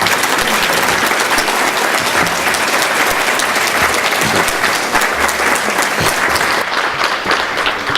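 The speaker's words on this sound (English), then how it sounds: "please receive them with a big round of applause." An audience at a business luncheon breaks into sustained, loud applause, steady clapping from a crowd filling the whole stretch with no break.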